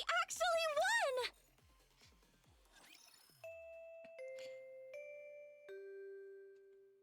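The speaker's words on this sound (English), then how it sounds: "The bell rings, signaling the end of classes." A school bell in the Nikke video game chimes in a descending series of clear tones after a brief burst of voice at the start, ringing out with a soft, sustained decay.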